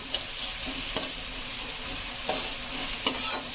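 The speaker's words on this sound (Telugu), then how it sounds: "బాగా వేగనివ్వాలి" Fish frying in a pan with turmeric for a chepala pulusu fish curry, a dense steady sizzle with occasional spatula scrapes and light pops, close and without talk.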